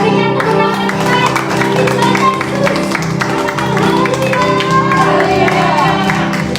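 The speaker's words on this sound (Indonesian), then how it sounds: "Berikan tepuk tangan Tuhan" A church congregation at a Sunday worship service claps along loudly and steadily with music playing throughout, voices calling out now and then over a dense, continuous wall of sound.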